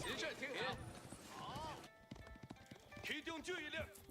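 Horses clip-clop and gallop in the Age of Empires real-time strategy game, with mounted horsemen moving in a steady patter. A whinny rises briefly amid the busy in-game sound and a voice.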